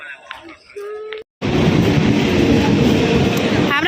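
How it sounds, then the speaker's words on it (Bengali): A loud, steady rumble of a train rolling into a station close by, following a brief burst of station noise and a short silence. "ট্রেন ঢুকছে দূর থেকে দেখা যাচ্ছে"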